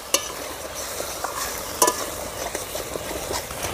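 Spice masala with salt and turmeric fries in oil for Bengali tel koi, a dense sizzle under sharp spoon-on-pan scrapes and occasional knocks, close and fairly loud.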